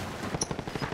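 Rapid automatic gunfire in the zombie battle royale game Zombie Royale, a brief, fairly quiet burst of evenly spaced shots.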